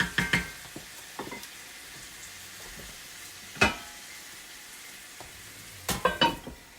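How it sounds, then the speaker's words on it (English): Avocado oil heats in a pan with a soft, constant sizzle, broken by a few sharp clanks and scrapes of a utensil stirring against the pan, close up and with no talking. "I'm just going to give this a quick stir and heat up."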